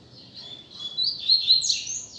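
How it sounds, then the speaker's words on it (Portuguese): A coleiro, the double-collared seedeater songbird, sings a close, clear run of high, rapid chirps and trills that rise and grow louder toward the middle, heard alone against quiet background noise. "Coleirão Braddock aí, ó. Voltando ativo, hein"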